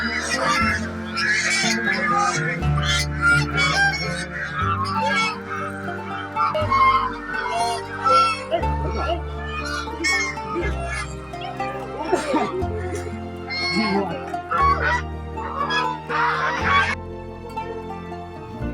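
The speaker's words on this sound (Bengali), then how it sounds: "হাঁসগুলো তাদের ঘর অর্থাৎ খোয়ারে যাচ্ছে।" A flock of ducks heads to its pen at dusk beside a mosque pond, loud repeated honking quacks near and overlapping, while a person talks and a background music track plays steadily underneath.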